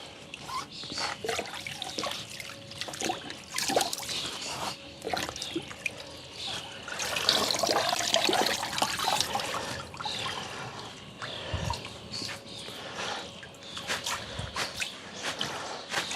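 Freshly harvested allotment leaves held in a net being rinsed and swished in water, with irregular splashes, trickles and drips, building to a fuller splashing burst midway before settling back to dribbling.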